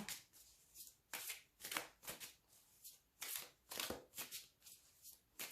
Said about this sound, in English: I just love shuffling this way as well.